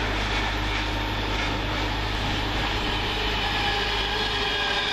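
A Virgin Trains Pendolino runs past on the down line from Manchester Piccadilly toward London Euston via Stoke-on-Trent, giving a steady, loud rushing rumble of wheels and traction close by for the whole stretch, with no voices.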